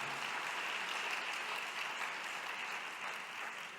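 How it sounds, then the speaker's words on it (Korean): Sustained applause from a conference audience after the announcement of Korea placing first among 76 teams in NASA's Centennial Challenge for 3D-printed Mars housing, a steady dense wash of clapping without a break. "박수가 크게 나와야 됩니다."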